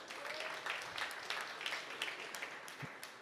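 Scattered applause from students in a lecture hall audience, fairly faint and thin, with individual claps standing out and a light murmur underneath.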